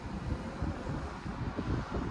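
Wind buffets the microphone in low, gusty rumbles, steady and close, with no voices.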